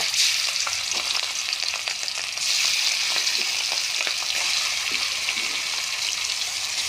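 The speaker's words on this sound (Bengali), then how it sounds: "তেল গরম হয়ে গেছে। এখন এখানে মাছ দিয়ে দিব।" Rohu fish pieces, four of them, frying in hot oil after a turmeric and chilli rub: a loud, dense, steady sizzle full of crackling pops, close by and without talk.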